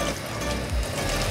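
Hot water poured from a kettle into a mixing bowl while making Anzac biscuits gives a brief, continuous splashing gush lasting just over a second, close and fairly loud.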